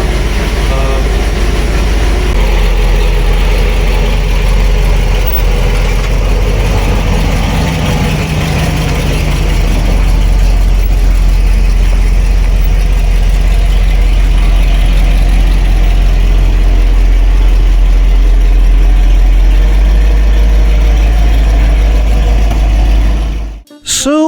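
A 1970s Lincoln Continental Mark III engine idles with a continuous deep, heavy rumble for the whole stretch, loud and close, and a voice is faintly audible under it.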